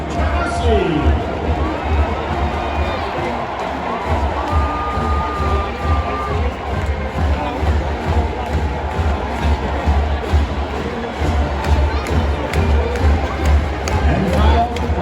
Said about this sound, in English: And now the crowd salutes the greatest football fans in the country.